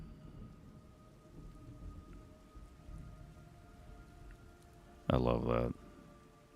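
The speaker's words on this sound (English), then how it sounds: "It's raining blood." Rain and thunder in the video game Metal Gear Solid Delta: Snake Eater, with a steady wash of rainfall and low rumbling throughout. A person speaks briefly near the end over the storm.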